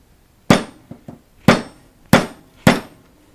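A hammer strikes a nail used as a punch against a bike chain held in a vise, five sharp metallic blows spaced about half a second apart with a couple of lighter taps between them, loud and close.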